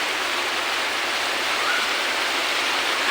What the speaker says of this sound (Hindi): यहाँ पे बारिश बहुत ज़्यादा हो रहा है